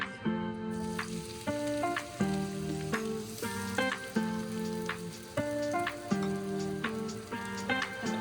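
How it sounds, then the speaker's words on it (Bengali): Chopped onions frying in hot oil for a spicy Bangladeshi shrimp bhuna, a steady sizzle beneath a repeating melodic background tune. "তেলটা গরম হয়ে গেলে তারপর আমি এখানে পেঁয়াজ কুচি দিব।"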